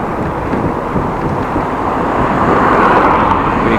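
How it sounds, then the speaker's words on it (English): A big truck passes on the road beside a cyclist on a hot day, a broad rising roar swelling up close over steady wind buffeting the microphone. "Big truck."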